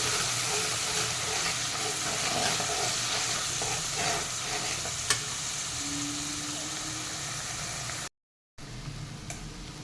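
Masala paste sautéed in oil for a potato and cauliflower curry gives a continuous close sizzle with occasional stirring scrapes, then a brief silent gap before the frying hiss resumes.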